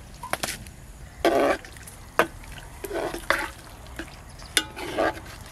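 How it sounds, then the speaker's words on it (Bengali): Fried vegetables and washed spinach drop into a khichuri pot of half-cooked rice and lentils, giving several short wet splashes and soft thuds with sharp clinks between them, close by and irregular. "ভেজে রাখা সবজি, কেটে ধুয়ে রাখা পালং শাকও দিয়ে দেব।"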